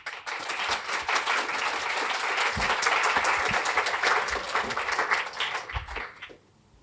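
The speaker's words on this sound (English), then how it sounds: "Please give a round of applause." Audience applause at a World Vision Hong Kong climate symposium, a dense, steady crackle of many hands clapping that rises quickly, holds loud for about six seconds, then fades away near the end.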